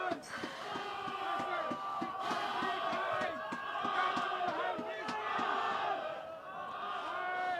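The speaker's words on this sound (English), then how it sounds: "Crowd certainly getting involved in the game now." Spectators at a National League One rugby match between Highland and Biggar roar and chant together, loud and sustained, with rhythmic rising shouts and a commentator's voice running over the crowd noise.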